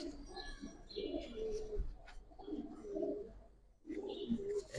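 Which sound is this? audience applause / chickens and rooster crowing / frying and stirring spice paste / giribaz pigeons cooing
giribaz pigeons cooing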